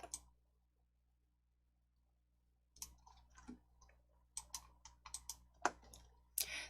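Mouse clicks on the replace button in a Korean word-processing document: after a silent stretch comes a series of quiet, close, crisp clicks in an irregular rhythm, with no one talking.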